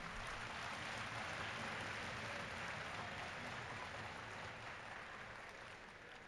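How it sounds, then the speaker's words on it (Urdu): An audience at a panel discussion applauds, a dense, even wash of clapping from a crowd that holds steady for several seconds and then slowly thins toward the end. "آپ کی تالیوں میں کوئی جان نہیں ہے"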